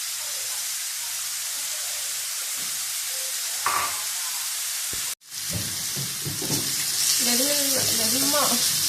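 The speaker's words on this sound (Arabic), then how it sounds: "نتسناو دابا تتشحر" Onions frying in a pan for a vegetable pie filling give a steady close sizzle and crackle, briefly interrupted by a stir, then continuing with a voice speaking over it near the end.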